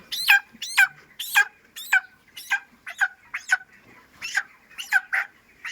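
Broiler chickens on a poultry farm give a steady run of about a dozen sharp, evenly spaced calls, close and clear over a quiet background.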